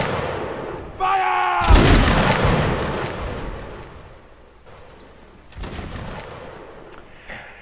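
A musket volley erupts in Mount and Blade Napoleonic Wars, a sudden loud crackling burst of many shots after a brief shouted voice, followed by fading rumble and a second smaller burst of gunfire.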